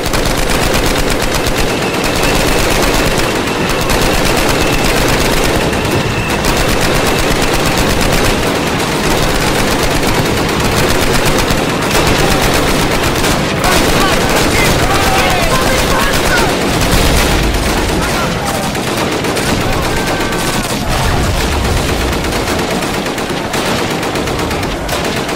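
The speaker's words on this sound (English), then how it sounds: "Machine guns ready! There they are! Fire!" Machine gun fire in Call of Duty United Offensive during a Russian trench battle, loud and continuous with sustained automatic bursts and scattered shots layered over the whole stretch, voices shouting at times.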